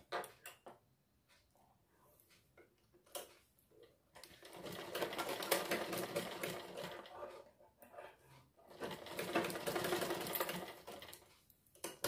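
A sewing machine stitches the sides of folded fabric in short bursts of rapid mechanical chatter, broken by quiet pauses, with a longer sustained run in the middle and another near the end.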